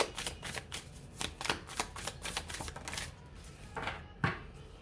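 Tarot cards shuffled and pulled from a deck, a rapid series of crisp riffling flicks close up, easing off before one final sharp tap.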